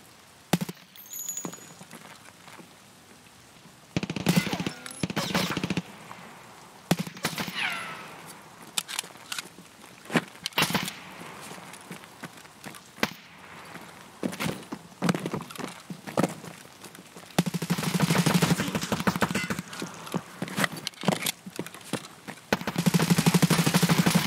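Sharp pistol shots in Escape from Tarkov on the Streets map crack out in scattered single reports and short clusters over quiet ambience.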